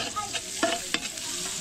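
Garlic and onion sizzling in a hot pan, a soft continuous frying hiss broken by a few sharp stirring scrapes of a utensil, close and fairly quiet.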